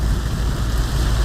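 Constant heavy rain pouring down on a mountaintop nipa hut, a loud dense unbroken hiss filling the whole span with a low rumble beneath.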